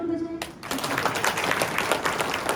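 An audience at a spiritual talk on a clean and healthy society breaks into sustained applause after a short pause. The clapping is dense and steady and holds at an even level to the end.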